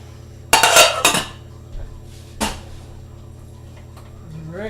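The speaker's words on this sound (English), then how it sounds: "I'm gonna start boiling some water right away." A metal pot clanks and rattles on a stovetop as water is set to boil for shepherd's pie, a few sharp close knocks and scrapes against a low steady kitchen hum.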